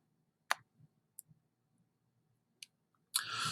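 Computer mouse clicks selecting website links, a few sharp isolated clicks spaced apart in a quiet room, followed by a burst of broadband noise at the end.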